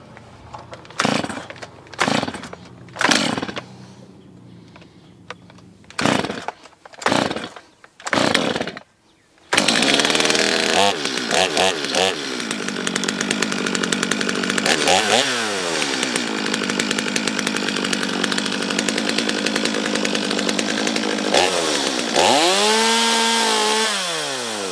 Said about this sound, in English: the chainsaw is the loudest thing out here